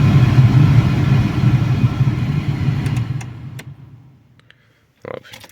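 Ventilation fan in a VW Polo car roaring loudly and steadily, then winding down and fading to near silence, followed by a few faint clicks and a brief thump.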